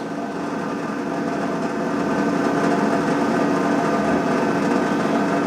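Atlas metal lathe spinning steadily at its 3,200 RPM maximum, a continuous close whine and hum that swells slightly partway through, with no voices.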